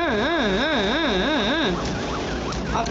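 A police car siren in a racing video game wails in a loud, fast rising-and-falling pattern over a steady engine drone, then shifts to a slower, fainter sweep.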